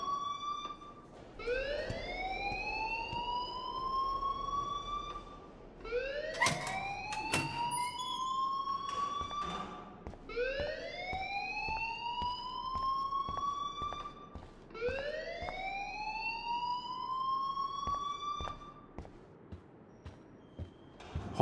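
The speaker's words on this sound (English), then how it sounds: "please turn off that alarm since that's your job" An alarm wails in the video game Life is Strange: four long rising siren sweeps with bright harmonics, each climbing then holding, repeating steadily at fairly constant loudness with no talk over it.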